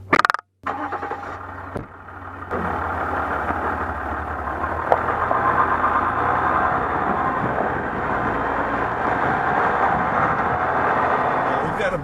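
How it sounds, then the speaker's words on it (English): A 2014 Ram 1500 EcoDiesel pickup's diesel engine runs at a quiet, steady idle after a brief knock at the start, a low continuous hum heard from inside the cab beneath occasional speech. "It sounds like a diesel car engine, basically."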